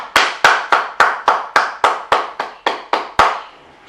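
A church congregation applauding in a slow, even rhythm of about a dozen sharp, close claps, then falling quiet.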